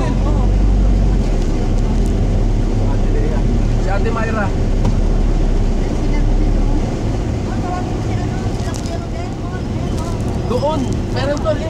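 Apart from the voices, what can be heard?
many motorcycles passing on the road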